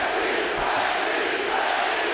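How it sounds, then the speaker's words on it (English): Boxing arena crowd roaring for hometown favorite Jeff Lacy during his fight with Robin Reid, a dense, steady, loud wall of voices with no break. "As the crowd roars behind the hometown favorite, Jeff Lacy."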